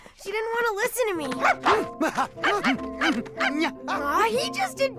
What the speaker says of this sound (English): he just adores his puppy, Rex.